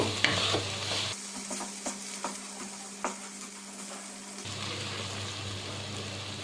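Chilli powder, salt and turmeric stirred in a pan for arum lobe with dry fish: several close scraping strokes of a spatula over a steady low sizzle, no voices.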